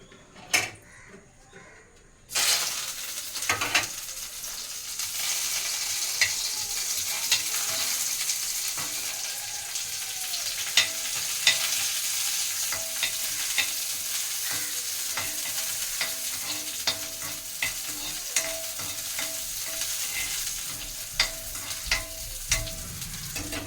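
An onion fries and is stirred in a pan, with curry leaves and chili powder, for children's Maggi noodles. After a brief quiet start comes a steady loud sizzle, broken by scraping stirs and clatters throughout.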